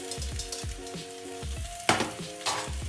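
Pasta with tomatoes sizzles in a pan, its frying hiss broken by rhythmic stirring and tossing strokes, plus a couple of louder clatters near the end, heard up close with no voices.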